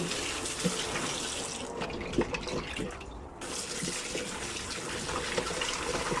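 Chicken feet are washed under a running tap in a kitchen sink, a steady close rush of water with intermittent splashes and knocks as the feet are handled.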